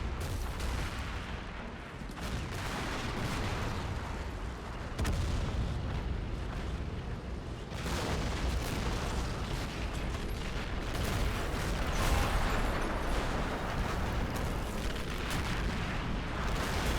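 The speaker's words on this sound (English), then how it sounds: "Do we have rockets landing all the way back here?" Rockets land and explode around a superfortress in a video game, a continuous dense roar of blasts and rumbling impacts that stays loud throughout.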